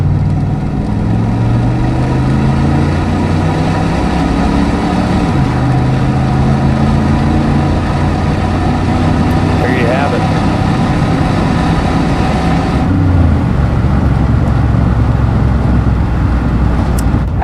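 A 1987 Chevrolet Camaro IROC with a TPI 350 V8 and automatic transmission pulls hard under aggressive acceleration, a loud, close, continuous engine roar rising in pitch through the gears with a shift break before settling into cruise.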